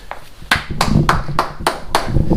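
A handful of sharp hand claps land in an uneven rhythm, close by, with some low background murmur between them.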